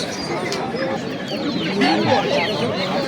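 Chicks peep and hens cluck in a busy heap of overlapping calls at a Namangan poultry market, close and continuous, with a voice speaking among them.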